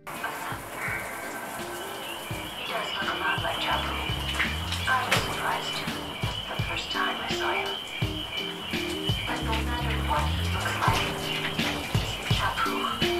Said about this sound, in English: it's time for a shower.